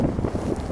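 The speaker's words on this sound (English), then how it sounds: "I can't really speak too much in this wind, but it's coming from the southeast" Strong wind buffets the microphone on a hilltop above Loch Earn in the Scottish highlands, a loud, continuous low roar and rumble filling the brief moment with no talk.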